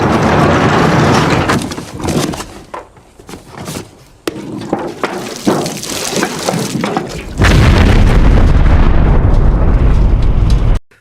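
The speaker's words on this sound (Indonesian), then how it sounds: "seseorang telah meledakkan kendaraan mereka" A vehicle blown up in a film about a motorcycle gang and an ex-cop: a sudden loud, sustained explosive roar breaks in partway through and rumbles on to the end, after a stretch of quieter scattered noises and thuds.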